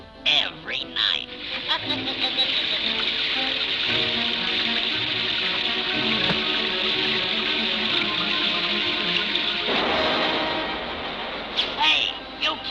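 Steady rain sound effect in a vintage Max Fleischer Popeye cartoon, a dense continuous hiss running for about ten seconds, with brief cartoon sounds or voices at the start and end.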